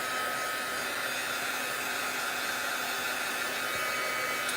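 A hair dryer runs steadily at close range to dry a craft project, a continuous loud whooshing blow with an even pitch and no talk throughout.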